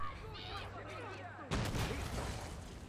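A tank cannon fires in Far Cry 6 with a sudden loud blast midway, followed by a rumbling decay, after a stretch of game noise and scattered firing; a voice speaks faintly over it.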